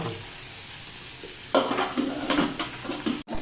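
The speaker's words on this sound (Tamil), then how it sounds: "இது அவ்வளவும் போட்டு நல்லா வதக்கணும்" Tomatoes for tomato chutney are sautéed in a pan. A quiet hiss in the first half gives way to louder stirring scrapes and sizzling bursts, with a brief cutoff near the end.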